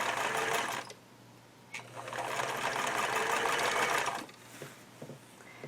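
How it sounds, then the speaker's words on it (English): A sewing machine stitches binding onto the edge of a quilt in two steady runs, a loud close motor whir with a pause between, then stopping for light handling noises at the end. "Put down my presser foot and then stitch again."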